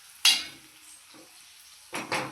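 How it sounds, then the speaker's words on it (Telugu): Onions fry in a pan while a utensil stirs them, with two short bursts of sizzling and scraping separated by a quieter stretch of low crackle, for a fish curry. "ఇవి కొంచెం బాగా ఫ్రై అయ్యాక"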